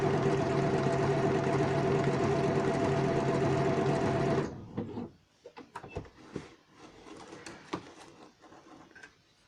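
A sewing machine works a blanket stitch on appliqué fabric with a loud, continuous mechanical hum for about four seconds, then stops abruptly. Quieter handling clicks and rustles follow nearby.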